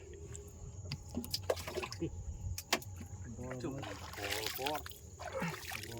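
A wooden fishing boat moves along a river in the Sundarbans, with soft water lapping and paddling noises and some clatter beneath near, steady conversation.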